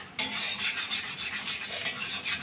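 Sugar being stirred and scraped in a pan as it melts into syrup for bread mithai, a steady close rasping and rubbing that continues evenly throughout with no talking.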